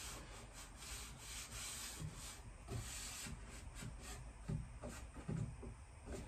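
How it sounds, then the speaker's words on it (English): Soft, rhythmic rubbing strokes on a wooden shelf as it is polished by hand, quiet and close, with faint scuffing pulses repeating about every half second. "I'm just polishing this one up now"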